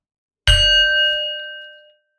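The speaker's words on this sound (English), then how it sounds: "Let's begin with the bell." A meditation bell rings once, a clear, bright struck tone that starts sharp and rings on, slowly fading over about a second and a half, with nothing else heard.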